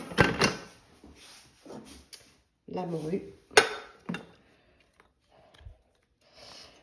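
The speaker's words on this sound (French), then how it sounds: "Je vais venir faire tout descendre avec ma spatule." A spatula scrapes down the inside of a Thermomix bowl, making several short clattering scrapes and knocks separated by pauses, close and fairly quiet.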